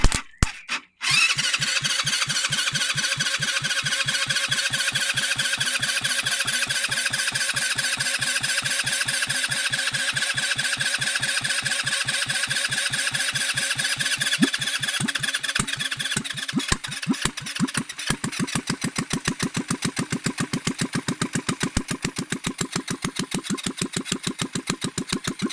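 A rebuilt GY6 scooter engine upgraded to 170cc catches after a few starter bursts, then runs with a rapid, steady putter and a high squeal, loud and close throughout.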